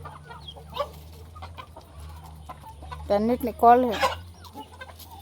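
Backyard chickens cluck while pecking at paddy (rice grain) feed tossed out for them, short bursts rising close by over a low steady hum, with a voice speaking briefly.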